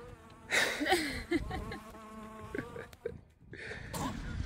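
A trapped bee buzzes close by in short, irregular bursts, its whine rising and fading as it struggles and tries to sting, heard outdoors on a cycling trip.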